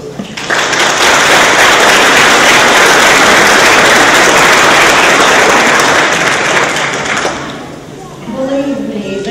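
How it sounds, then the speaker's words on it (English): Graduates applaud their faculty at a TCAT Harriman graduation ceremony: loud, dense clapping from a large group holds steady for about seven seconds, then fades, and a voice begins speaking. "I'd like you to give applause to your faculty members."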